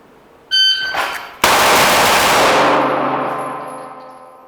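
An electronic shot-timer beep is followed by a loud, rapid string of pistol shots from an MSP Standard handgun during a Bill Drill at a shooting range. The fire blurs into one sustained blast with a long ringing decay.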